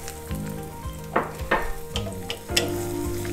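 Several large garlic cloves fry in oil in a pan, a steady sizzle with a few sharper pops and stirring scrapes spread over a few seconds, close and alone without any talk.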